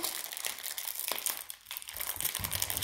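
An airy brown paper bag crinkles and rustles steadily as a cat plays with it, close and fairly soft, with a brief lull midway before the crackling picks up again.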